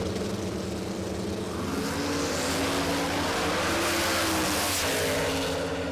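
Drag racing cars launch and accelerate down the strip at Warwick Dragway in Australia, a continuous loud engine roar that swells and holds across the whole stretch with no talk.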